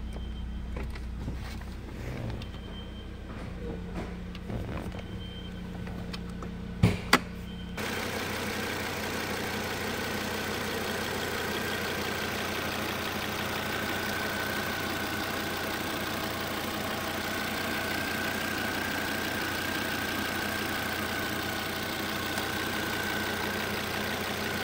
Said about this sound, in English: I'll quickly show you the engine as well in the car.